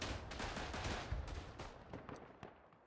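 Rifle and machine-gun fire in the WWI trench shooter Verdun during a defence of Fort Douaumont, with a dense string of sharp shots, some close and some distant, crackling over a rumbling battlefield backdrop.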